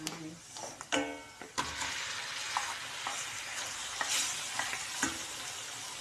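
Chicken pieces fry in a hot pan for a cream dish, a steady close sizzle broken by a few sharp clacks and scrapes of a utensil stirring the meat.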